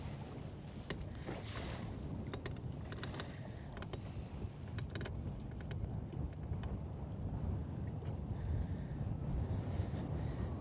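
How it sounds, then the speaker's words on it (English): Breezy wind buffets the microphone beside Lake Guntersville in a steady rushing roar, with faint water lapping and small knocks mixed in and no talking. "So it's nice and breezy right here."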